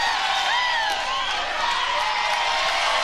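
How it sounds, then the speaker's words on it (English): Fans at a Florida versus LSU college softball game cheer and whoop steadily, a dense roar of voices with whistles and scattered clapping, loud and continuous throughout. "Crowd getting into it."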